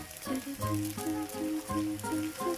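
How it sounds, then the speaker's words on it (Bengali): Chopped onions and tomatoes sizzle in a pan for a mutton fry, a steady close crackle running throughout, with tonal background sound layered on top. "এখন এই সব কিছুকে আমি কয়েক মিনিট ভেজে নেব।"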